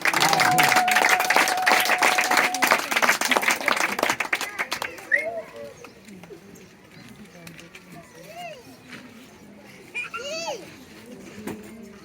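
A church gathering breaks into dense, loud clapping to welcome a speaker. The applause lasts about five seconds, then thins out as voices talk over a quieter room.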